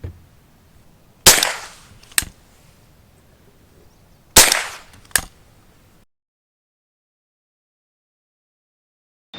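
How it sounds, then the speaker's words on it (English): Rifle and pistol shots, including a Remington 870, Sig P320, AR and Ruger American 6.5 Creedmoor, fired as a control group; four sharp reports in two pairs, loud and close, followed by silence, with no talk. "let's go ahead and shoot that control group"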